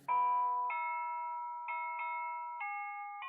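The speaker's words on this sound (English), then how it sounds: "Sorry, that's the doorbell." A doorbell chimes a repeated two-tone melody, clear and ringing, with each note sustaining and fading into the next, no voices.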